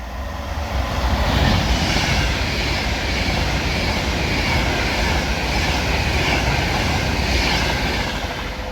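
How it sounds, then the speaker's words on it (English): An Avanti West Coast Pendolino class 390 train in Pride livery rushes through Oxenholme station on the West Coast Main Line, a loud steady roar that swells early and holds for several seconds. "approaching now we have an Avanti West Coast Pedalino."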